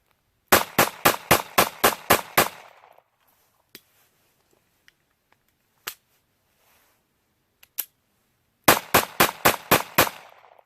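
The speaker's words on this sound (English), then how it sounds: "I just put 100 rounds through the Taurus Spectrum 380" A Taurus Spectrum .380 pistol fires two rapid strings of about seven sharp gunshots each, loud and close, with a few isolated clicks and knocks in the quiet gap between the strings.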